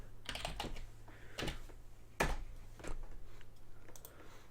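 Light, sparse keystrokes on a computer keyboard, a handful of separate clicks spaced irregularly, close and quiet with no talking.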